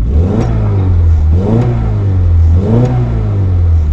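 A Mercedes C200 W204 engine revs up three times in a row, each a smooth rising vroom that falls back to a steady idle hum, loud and close with no voices.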